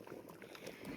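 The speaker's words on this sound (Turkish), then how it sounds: "Sosum şimdi kaynıyor." Soft bubbling and popping of a thick hot sauce simmering in a pot outdoors in a garden, quiet and close, with no voices.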